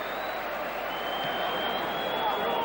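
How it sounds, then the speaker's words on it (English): Celtic fans applauding at a football match against Hearts, a steady distant wash of clapping from a large stadium crowd, even and sustained, under crowd murmur. "Sympathetic applause from the Celtic fans."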